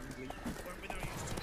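Horse hooves clip-clop in The Witcher 3 video game, a short run of light, fairly close hoof knocks mixed with game ambience and background voices.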